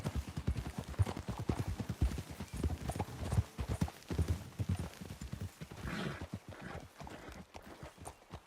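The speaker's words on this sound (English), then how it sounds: "let's dismount here. Best leave the horses back a bit." Steady clip-clop of video game horse hooves at a trot, fairly close, with a brief whinny and scattered background noise throughout.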